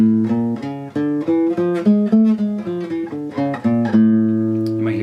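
A single guitar picks out a quick melodic run of distinct notes in the Hindustani scale, close and clear, ending on a held ringing note.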